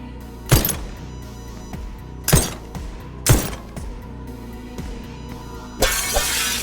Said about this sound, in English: Oh, I gotta shoot the glass, I bet.